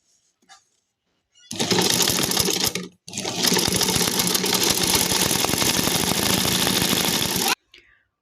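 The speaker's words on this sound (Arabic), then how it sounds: "هبتدي بعد كده اخيط بقى" Sewing machine stitching satin lining for a beaded bag, a loud close continuous motor whir with rapid needle chatter, briefly pausing once before running on steadily and then stopping.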